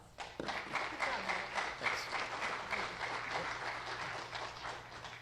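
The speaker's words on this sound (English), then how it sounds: "Let's give them a round of applause." An audience breaks into applause that goes on steadily, a dense patter of many hands clapping indoors.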